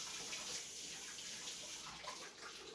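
Hot water runs from a tap into a kitchen sink holding pots and pans, a steady broad rush with soft splashing, heard on its own at a moderate distance.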